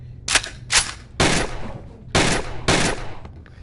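Five sharp video game gunshots ring out in an uneven sequence, loud and close, each with a short echoing tail, with no talking over them.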